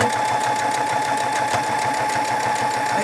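A sewing machine stitches pajama pants fabric at a steady fast pace, its even rapid mechanical chatter close and continuous throughout.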